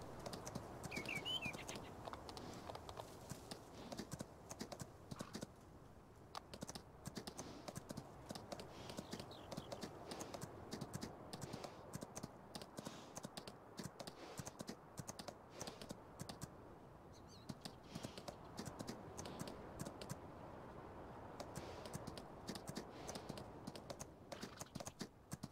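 Horse hooves clip-clop steadily while riding at a ranch in Farming Simulator 19, a continuous rhythmic patter of hoofbeats that runs the whole time beneath a constant busy background.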